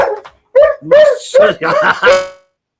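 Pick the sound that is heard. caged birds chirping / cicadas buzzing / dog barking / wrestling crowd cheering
dog barking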